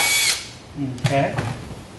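A power drill bores a hole through a golf cart dash panel in one brief, close burst about a second long, with a short noise just before it.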